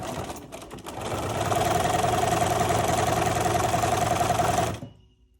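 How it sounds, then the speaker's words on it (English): A sewing machine stitches a half-inch seam in regular fabric backing for a table runner. It runs a steady, close, even whir for several seconds, then stops abruptly. "I'm going to pin along the bottom edge and sew those with a 1/2 inch seam."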